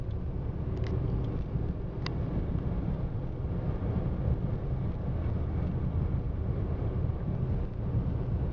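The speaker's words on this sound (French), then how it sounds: "avec bien sûr le vent violent de droite" Strong crosswind buffeting a moving vehicle's microphone on a rural road drive, a steady loud low rumble and roar that continues unbroken throughout with no talk.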